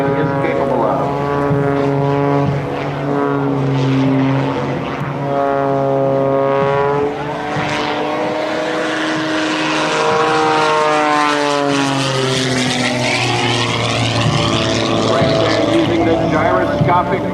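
An Extra 300 aerobatic airplane with a three-bladed composite propeller roars loudly and steadily at an Air National Guard open house air show, its propeller pitch sweeping up and down as it dives and climbs, with an announcer faintly audible beneath.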